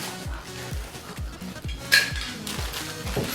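Metal TV wall mount hardware (nuts, bolts and washers) clinks and rattles as it is sorted by hand, giving a series of sharp close taps and jingles at an uneven rhythm.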